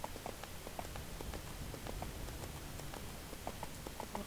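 Horse mount trotting in the video game EverQuest 2, a steady run of light clip-clop hoofbeats over a dense, noisy background bed, with no talking.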